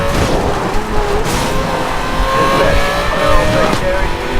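A Lamborghini Gallardo's engine in the racing game Need for Speed Most Wanted 2012, a loud continuous high-revving drone with shifting pitch, under a speaking voice.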